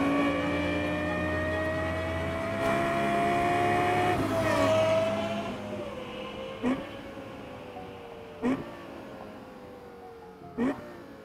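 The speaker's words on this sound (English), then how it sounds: "This is a Lexus LFA." Lexus LFA sports car engine running with pitch shifts and sweeping tones, a steady drone broken later by three sharp, loud bursts at regular spacing.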